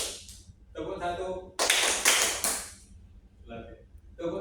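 A class of schoolchildren claps along to a called-out counting pattern in a primary-school lesson, with irregular bursts of hand claps alternating with spoken counting, one long dense clapping burst in the middle, close and fairly loud.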